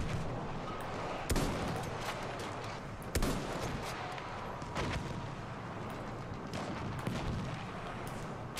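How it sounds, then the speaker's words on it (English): Battlefield 1 battle with dense, continuous gunfire and rumbling explosions, heavy booms landing at intervals over a constant roar of combat. "Enemy coordinates have been sent to our artillery."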